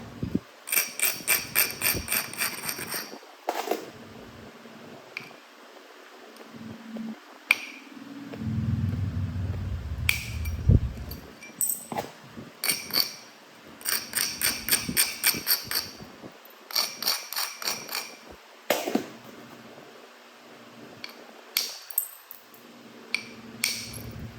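Florida coral being flintknapped into a tapered preform: bursts of sharp, ringing clicks and taps struck in rapid clusters, separated by pauses and a brief low rubbing or grinding.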